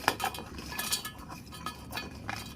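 Pieces of besan muthiya drop into a metal mixer jar with light clinks, taps and rattles, close and fairly quiet, with no voices.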